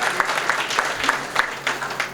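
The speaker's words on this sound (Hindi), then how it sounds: "इस बात पर तालियां होनी चाहिए थी आपकी" Audience applause at a mushaira poetry gathering in Dhampur, Bijnor, a brief run of clapping from a modest crowd with several distinct claps popping out, fairly close and with no talk over it.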